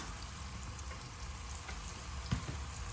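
Beef for a stew cooks in a pot with a soft, steady sizzle and crackle and a faint clink near the end, close and quiet, with no talking.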